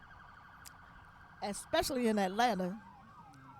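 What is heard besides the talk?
emergency vehicle sirens passing outside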